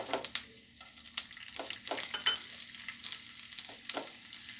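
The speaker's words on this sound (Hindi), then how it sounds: "तेल गरम हो गया है, अब हम राई, जीरा और सौंफ डालेंगे।" Mustard seeds, cumin and fennel sizzling in hot oil, a faint, soft frying hiss broken by scattered crackles and small pops, close and alone.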